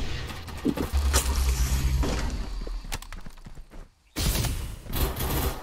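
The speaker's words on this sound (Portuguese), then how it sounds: "Olha lá, os caras atirando do outro lado lá, ó." Gunfire from distant opponents in the Farlight 84 battle-royale shooter, a dense crackle of rapid shots and impacts running through most of the stretch, with a brief drop near the end before the firing resumes loudly.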